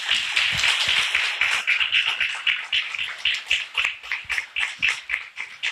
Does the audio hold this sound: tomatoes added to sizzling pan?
no